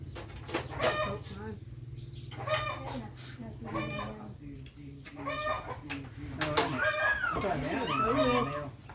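Chickens cluck and squawk in repeated bursts close by, with some wing flapping, while a person talks over them.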